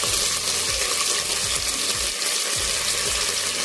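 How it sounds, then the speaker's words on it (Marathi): Garlic, coconut and whole spices sizzle steadily in hot oil in a pan for a village-style chicken curry, a loud continuous frying hiss with faint stirring scrapes, up close. "लसूण, खोबरं, आपण सर्वप्रथम मसाला परतून घेणार आहोत."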